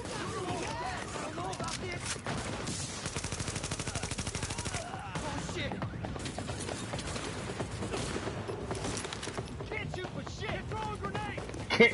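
Rapid gunfire in Tom Clancy's The Division, sustained bursts of automatic shots running through most of the stretch, with players talking over the shooting.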